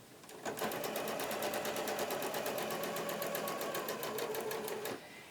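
A sewing machine runs at a steady, rapid stitching pace while joining quilt binding strips, its even mechanical clatter loud and close, starting and stopping cleanly.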